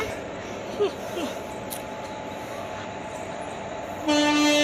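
Bustle at Karjat railway station with a low rumbling train and mixed voices, then a loud sustained train horn blares near the end.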